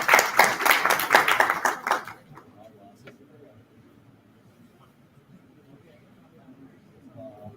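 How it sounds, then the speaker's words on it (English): Brisk audience applause for a guest at a physiotherapy conference in Abu Dhabi, a dense burst of clapping that stops after about two seconds and leaves quiet room murmur and faint talk. "Please have a round of applause for Dr. Anshul Gurnani sir"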